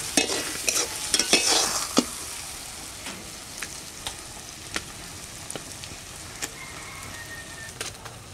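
Spice masala frying in a pan for a stingray fish curry, stirred with a utensil: a soft steady sizzle under sharp scattered scrapes and taps, busier at first, then sparser and quieter.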